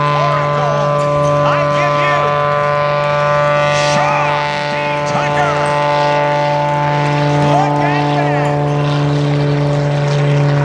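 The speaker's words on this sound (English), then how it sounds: "we're hopefully going to see Sean turn the airplane into a helicopter" At the 2014 Vectren-Dayton Air Show, an aerobatic propeller airplane flown slowly drones with a steady engine and propeller hum whose pitch wavers slightly, loud and continuous throughout.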